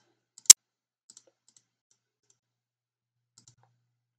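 A single sharp computer mouse click stands out clearly in near silence, followed by a couple of much fainter tiny clicks, while operating the Siemens TIA Portal HMI runtime software.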